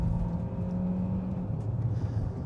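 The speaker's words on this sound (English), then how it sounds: "It's a very thrashy sounding engine that sends lots of vibrations back through the shifter or back through the steering wheel and through the pedals" A 2025 Hyundai Santa Fe Hybrid with a thrashy, vibrating engine and a slow-shifting 6-speed gearbox drones and whirs steadily from inside the cabin as it accelerates. The engine holds a low, rough rumble throughout.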